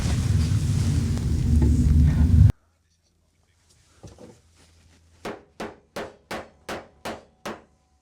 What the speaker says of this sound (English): To remove the waste, I grab a chisel.